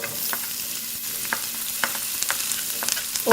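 Onion frying in oil in a pan after the garlic has browned, a steady close sizzle with scattered crackles and light stirring clicks, no voices.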